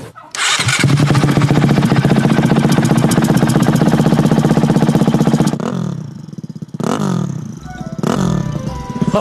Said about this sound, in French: C'est incroyable d'avoir un bruit de turbo dans une 450, les gars.